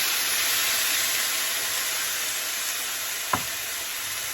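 Cooked rice frying in a pan with butter and soy sauce, a steady loud sizzle and hiss throughout, with a single sharp tap near the end.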